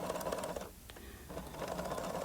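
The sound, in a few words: sewing machine stitching along a straight line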